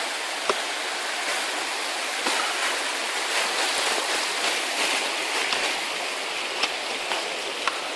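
A mountain stream in Nepal rushes along a trail, a steady, fairly quiet hiss of flowing water with a few faint knocks.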